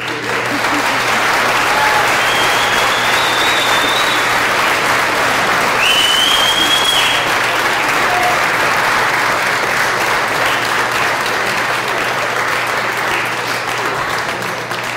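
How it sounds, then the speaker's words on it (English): Graduates at a January 2015 DATC graduation ceremony applaud their family and friends, a loud, dense and steady wash of clapping from a large crowd that fills the whole stretch without a break. "I would like all of the graduates to please give a round of applause for their family and friends who supported them"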